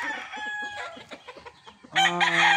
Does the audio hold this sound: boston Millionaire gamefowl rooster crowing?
yes